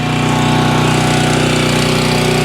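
A pull-start gasoline engine on firewood equipment runs steadily and loudly up close, a constant droning hum with a fast rhythmic pulse and no voices over it.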